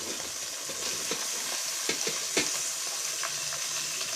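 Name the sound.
tomatoes added to sizzling fish curry in pan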